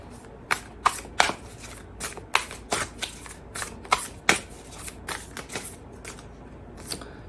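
A deck of Spirit Animals Oracle cards is shuffled by hand, giving sharp, irregular riffling flicks and slaps close up in a quiet room, with no one talking.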